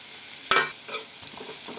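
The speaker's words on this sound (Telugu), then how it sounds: "బాగా కలుపుకున్నాం, కొంచెం బాగా మగ్గేదాకా" Tomato pieces with turmeric are stirred in a pan, giving a few quiet, brief scraping strokes over a faint sizzle, close and without talk.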